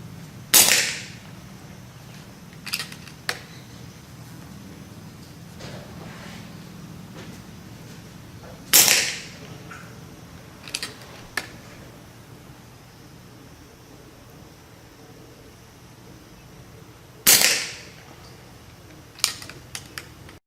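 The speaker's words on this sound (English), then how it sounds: "As you can see, I took 3 shots." Three sharp rifle gunshots fired one at a time, spaced several seconds apart, each a loud crack with a short decaying tail, from field shooting at a prone target outdoors, with a few faint clicks between the shots.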